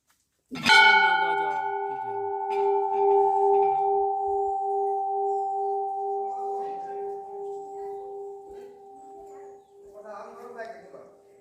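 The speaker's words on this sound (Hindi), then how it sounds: "देखिए घंटी है, देखिए आप।" A single loud strike of a bell at the Sem Mukhem Nagraja temple rings out and hums on with a long, steady tone that slowly fades, with faint voices and rustling in the background.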